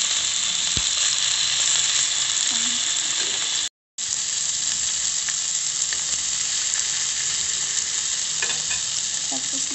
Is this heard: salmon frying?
yes